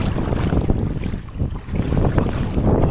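Strong wind gusts buffet a canoe on Lake Saimaa, a loud, churning roar of wind noise and water that swells and dips continuously, close to the microphone with no voices.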